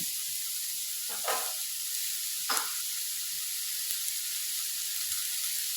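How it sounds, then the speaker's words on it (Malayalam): Onions and green chilies sautéing with salt in a pan give a steady close sizzle, with two brief louder bursts of stirring or scraping, and no one talking. "ഈ സവോള ഒന്ന് നല്ലപോലെ ഒന്ന് വഴറ്റിട്ടെ"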